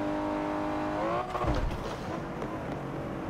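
Car engine in the Forza 7 racing game, a steady droning rev that shifts pitch and then breaks into a rough burst of crackling exhaust pops, loud and continuous.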